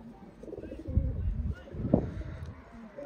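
Indian pigeons coo close by: two low, soft throaty coos about a second apart over quiet background rustle.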